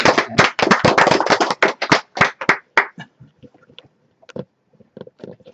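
Clapping from a lecture audience at a Korean culture class starts as a brisk, loud burst, then thins into scattered, softer claps and fades toward quiet by the end.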